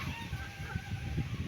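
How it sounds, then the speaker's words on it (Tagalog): Chickens cluck softly and continuously nearby, a low busy murmur of fowl with no voices. "Dito pang mga manok ko."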